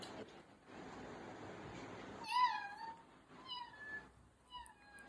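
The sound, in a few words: person imitating a cat meowing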